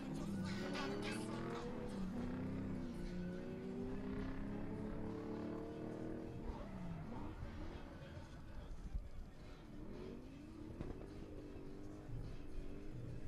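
Drift cars racing at a G-Drive drift event in Minsk, engines droning steadily with rising and falling revs and occasional tire squeal, while a commentator talks over it throughout.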